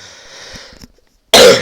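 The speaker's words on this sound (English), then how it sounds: "sorry, I have a bad cough." A single loud, harsh cough bursts out close by after a moment of quiet, following a faint hiss.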